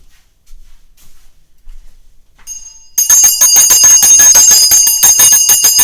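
A hand bell shaken in rapid repeated strokes rings out loudly and brightly after a few seconds of near silence, its metallic clangs tumbling in a quick, steady rhythm.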